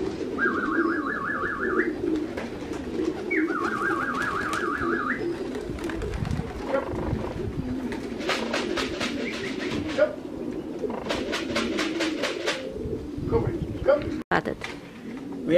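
Racing pigeons coo in a loft just back from a race, soft repeated throaty calls near the listener, with someone talking over them and some chirping and rustling in the background.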